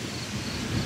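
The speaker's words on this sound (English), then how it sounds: "It is storming really good out here." Thunderstorm noise from a severe storm during overnight truck camping: a low rumbling roar mixed with rain and gusting wind, steady and fairly loud throughout a very brief moment.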